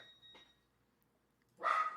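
A single sharp dog bark near the end, following a short faint sound and a quiet pause.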